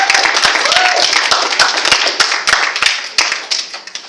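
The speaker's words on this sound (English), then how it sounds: "If we could give them another round of applause," An audience at the Australs 2013 university debating championship applauds the debate speakers, with close, sharp individual claps standing out over the crowd's steady clapping before it gradually thins toward the end.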